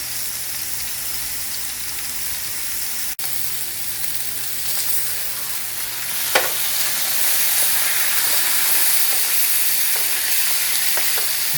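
A whole beef tenderloin sears in a hot pan, giving off a loud, continuous sizzle and crackle, with a sharp knock early on and a few spitting pops later.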